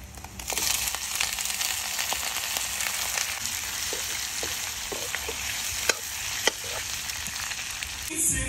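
Food sizzles loudly and continuously in a hot pan, with scattered crackles and pops and a few sharper clicks near the end.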